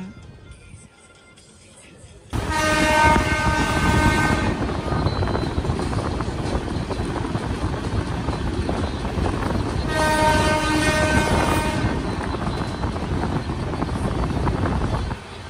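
A train rolls on single track through the Nallamala forest between Nandyal and Giddalur, a loud rumbling clatter starting abruptly, with a sustained horn blaring twice as it changes track.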